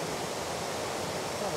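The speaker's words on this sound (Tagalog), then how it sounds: "ayun yung waterfalls" Pinamun-an Falls in Nagcarlan, Laguna pours in a dense, constant broadband roar of falling water, loud and unbroken across the short stretch.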